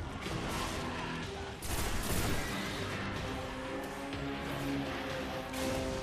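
Dense, sustained gunfire from Destiny: The Taken King, rapid overlapping shots and crashing impacts in a busy game battle, loud and continuous throughout with a brief dip before a heavier burst.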